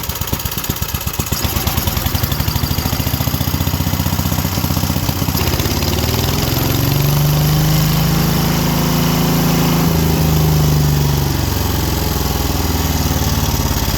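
A chipper shredder engine that sat outdoors for two years runs at idle, a loud continuous small-engine drone with a steady low throb that shifts pitch slightly midway, with no talk.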